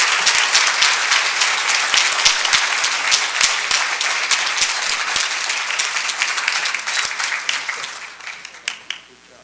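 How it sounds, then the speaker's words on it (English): Loud, dense applause from the audience at a spelling bee, many hands clapping together in a sustained wash that gradually thins, leaving a few scattered claps and a faint murmur at the end. "Let's give them a round of applause"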